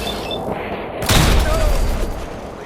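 Gunfire erupts in the post-apocalyptic video game Fallout 4, a loud burst of booming shots hitting about a second in and rolling on with heavy, dense blasts over a low rumble.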